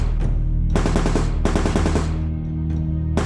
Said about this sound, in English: they are both startled by a sound of gunfire